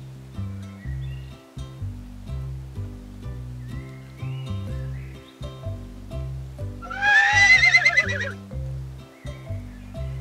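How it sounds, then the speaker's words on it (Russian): A horse neighs in a children's farm cartoon, a loud, quavering whinny rising over a bouncy, rhythmic music track near the end, with no talking. "Это же лошадь!"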